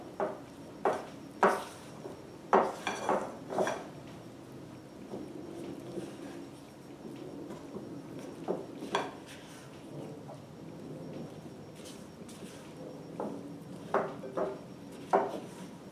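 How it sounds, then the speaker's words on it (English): Flatbread dough being mixed with a spatula in a bowl: irregular knocks and scraping thuds in short bursts, separated by quieter stretches, fairly close. "I like to make sure everything's thoroughly mixed"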